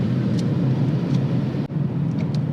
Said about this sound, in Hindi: गाड़ी ने फिर से स्पीड पिकअप करना स्टार्ट कर दिया है